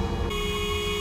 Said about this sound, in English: I'm going away from the honking.